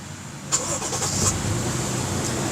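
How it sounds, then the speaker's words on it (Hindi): A 2002 Toyota Crown Athlete V6 turns over and fires up, a short starter burst settling into a steady, smooth idle heard close from inside the car. "इसके V6 इंजन की आप स्टार्टिंग देखें।"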